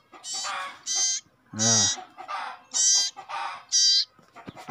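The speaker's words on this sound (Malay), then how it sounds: "Burung cipoh Aceh, asli Aceh ya, bukan jamburan." An Aceh common iora, called cipoh, sings in a series of clear, loud, close whistled phrases with short pauses between them, and one lower harsh call stands out in the middle.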